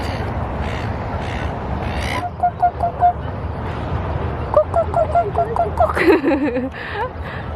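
Several honking swan calls, goose-like, come in short bursts over outdoor background noise, growing more frequent and closer toward the end as the swan approaches.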